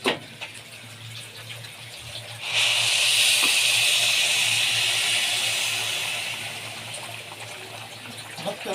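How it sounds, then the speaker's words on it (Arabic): Boiling water poured into a pan holding fish for a quick family breakfast, heard as a sudden loud steady hiss that swells in and then slowly tapers off. "هنزل بقى بالميه المغليه"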